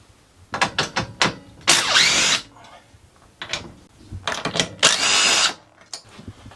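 A cordless drill backs bolts out of a motorhome sofa frame in two bursts: first a rapid string of short trigger pulses, then a sustained whining spin-out, repeated, close and loud with no talking.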